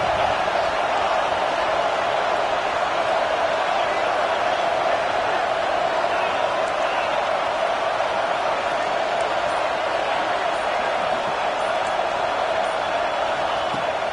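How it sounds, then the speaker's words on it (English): Crowd noise in a college stadium during NCAA Football 26 on third down: a dense, steady roar of fans that holds loud and unbroken throughout. "This Dawg crowd is off the leash, and they are coming after them, bringing noise on third down."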